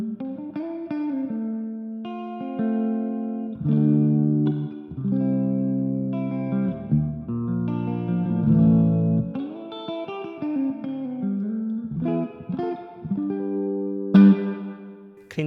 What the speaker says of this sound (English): We can change also the effects here, for example, more chorus and plate reverb.